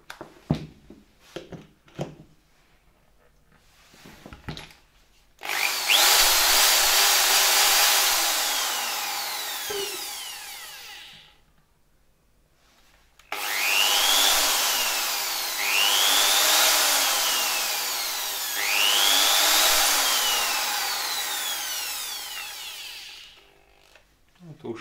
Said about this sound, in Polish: Możemy też zrobić próbę z wiertarką.